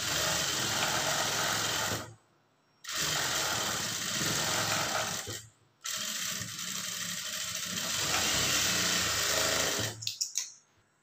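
Sewing machine stitching a seam on a lined blouse, running in three loud continuous bursts of rapid mechanical clatter separated by short pauses, ending in a few quick ticks.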